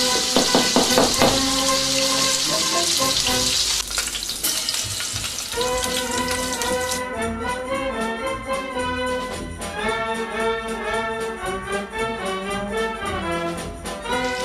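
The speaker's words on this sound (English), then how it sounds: "Now that these meatballs are sealed, they're going to go straight in the sauce." Spicy Italian meatballs fry and sizzle loudly in a pan of sauce, with a steady crackling hiss that carries on alongside music.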